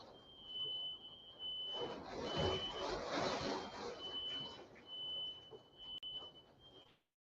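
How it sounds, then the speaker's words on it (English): A high, steady electronic alarm tone sounds continuously for several seconds under muffled background noise and movement, then cuts off abruptly. "my damn smoke alarm going off"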